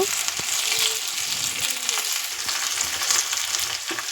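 Potatoes with chili powder frying in a pan, a steady bright sizzle with scattered scraping and clinking from a spoon stirring through them, close and even in loudness.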